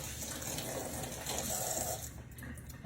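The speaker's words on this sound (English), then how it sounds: "Get my hands a little washed." Hands being washed under a running tap, a steady hiss of flowing water with light splashing that thins out near the end, close and fairly quiet.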